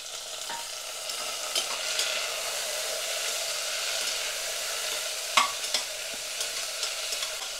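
Chopped garlic and a cut tomato sauté in a pan with a steady, hissing sizzle. Occasional faint stirring clicks sound over it, close and even throughout, with no talking.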